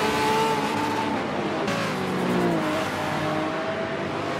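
Race car engine in Forza 7 roaring loudly and steadily through turns at Circuit de Catalunya, pitch dropping as it brakes and rising again as it accelerates out of the corners, with no talk over it.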